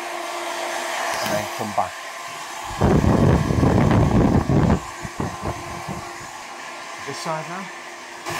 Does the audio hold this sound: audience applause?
no